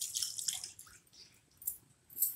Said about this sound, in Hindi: इसमें हम डालेंगे एक कटोरी पानी।